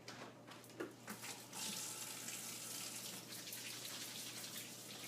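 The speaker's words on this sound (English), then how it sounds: "I'm going to wash my hands for 5 seconds" Tap water runs steadily into a kitchen sink during hand washing while dinner is being cooked, starting with a few splashes and then settling into a continuous close hiss with no talking.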